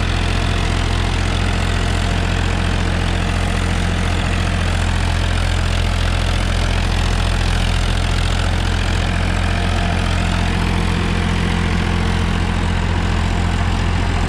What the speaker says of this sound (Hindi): लो के पहले गियर में 1800 RPM पर ट्रैक्टर चला रखा है